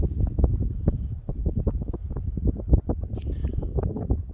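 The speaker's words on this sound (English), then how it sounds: "Comes a bit of wind, guys." Outdoor wind gusts buffet the microphone among potted trees, a continuous loud rumbling roar with irregular thumps that rises and falls throughout.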